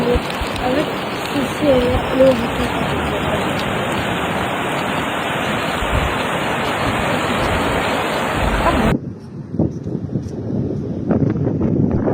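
Floodwater from the overflowing River Garonne rushes across countryside in the Gironde after a storm, a steady loud roar with wind buffeting the microphone, then a brief cut to a quieter rushing wash.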